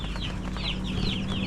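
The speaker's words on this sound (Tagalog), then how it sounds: "Mga manok namin dito guys" Farm chickens cluck and chatter in a short burst, several birds close by with quick repeated calls over a low background rumble in a rural province setting.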